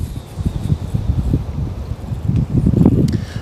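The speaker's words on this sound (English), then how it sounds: "Now we got another big wind gust here" A strong wind gust buffets the microphone outdoors while casting a fishing reel, a steady low rumbling roar that swells louder toward the end with no talk over it.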